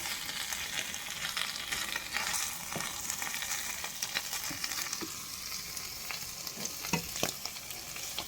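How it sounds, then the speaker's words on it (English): Vegetables are stir-fried in a pan for a pasta dish. A soft, continuous sizzle runs throughout, broken by light scraping and clicking as the food is stirred, heard alone without talk. "Stir fry first, then add it to the cooked pasta"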